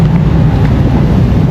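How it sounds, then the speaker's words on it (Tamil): Strong wind buffets the open upper deck of a ferry at sea, a steady loud low roar with constant gusting rumble and no pauses. "நல்லா காற்று தள்ளுது, பறந்துருவீங்க"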